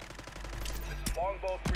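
Rapid automatic gunfire in a battle royale video game match, bursts of close shots cracking over a steady background, with player voice chat faintly mixed in.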